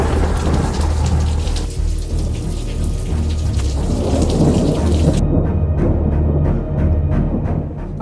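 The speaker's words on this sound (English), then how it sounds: "But thunderstorms, that's what we're here for." Heavy rain pours steadily while thunder rumbles and rolls through a British thunderstorm, loud and close, with the downpour's hiss dominating throughout.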